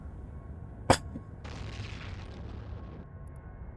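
A ship blows apart in EVE Online with a single sharp, loud blast, then a softer wash of crackling debris that fades over a few seconds. No voices are heard.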